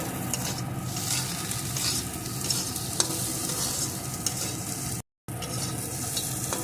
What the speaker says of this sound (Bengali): এখন আবারও একটু নাড়িয়ে নেব